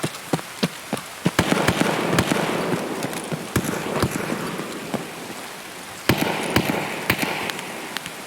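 Gunfire in a foggy survival shooter video game: scattered sharp distant shots and cracks, irregularly spaced over a steady rain-like ambient hiss.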